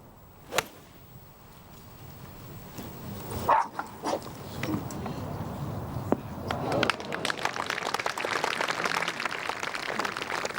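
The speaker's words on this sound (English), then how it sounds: "The dogs attacking each other now." Dogs fight and bark out on a golf course during a televised match, with scuffling, sharp yelps and a rising jumble of barking growing louder toward the end while commentators talk over it.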